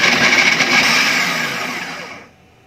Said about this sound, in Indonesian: Karena saya tidak punya parut yang mumpuni, sehingga saya akan menggunakan penghancur.